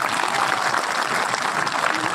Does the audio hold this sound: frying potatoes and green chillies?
no